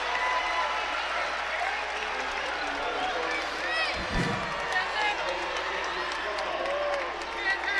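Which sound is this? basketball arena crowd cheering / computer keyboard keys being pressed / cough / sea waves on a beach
basketball arena crowd cheering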